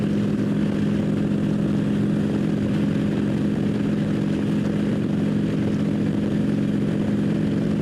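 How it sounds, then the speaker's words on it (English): A Harley motorcycle with straight-pipe exhaust idles steadily with a deep, loud rumbling, constant throughout with no talking. "It's perfectly possible to have your exhaust not make a lot of noise, even if it's straight pipes"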